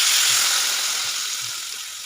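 Water is poured into a pan of frying potatoes and lentil dumplings, a bright, steady hiss and sizzle that slowly fades, with soft low knocks underneath.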